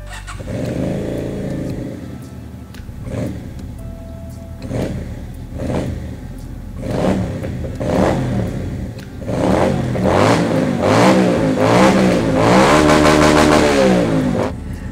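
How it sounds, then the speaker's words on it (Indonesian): A Keeway V250 motorcycle with stock exhaust starts and idles, then revs repeatedly in rising bursts, growing louder and more insistent toward the end, close by with no talk. "suara knalpot yang ngeblar kayak gini adalah versi standar dari motor ini"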